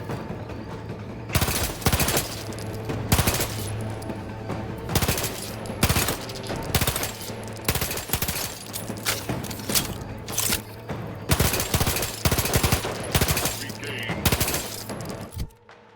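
Machine pistol fire in The Outer Worlds 2: rapid bursts of gunshots repeat in sharp clusters over steady game music and ambience, loud and close throughout.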